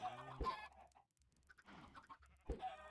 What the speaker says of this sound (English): time to hit some chickens with their own eggs.